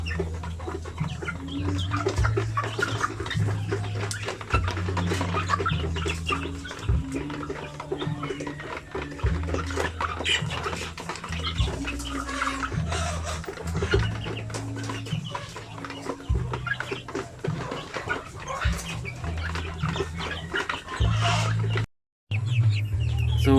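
Mother hens and young chickens on a farm cluck and chatter continuously at close range, with a busy, steady flock noise and no talking.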